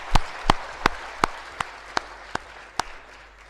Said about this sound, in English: For you at least, you should clap hard so that your other friends also should listen.